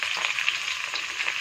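Sliced okra, onion, green chili and garlic with a spoon of salt sauté in a hot pan, giving a steady close sizzle with light crackling pops over the short moment.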